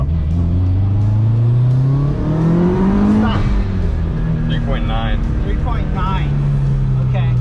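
A car engine revs hard through a second gear acceleration pull from 2,000 RPM on swapped wheels, its loud tone climbing steadily and then easing, with a voice briefly audible over it.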